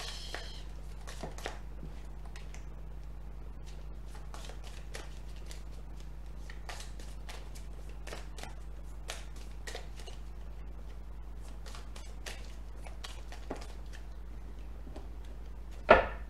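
Tarot cards shuffled by hand close up, a quiet run of short papery flicks and snaps scattered irregularly over a steady low hum, with one sharper tap at the end.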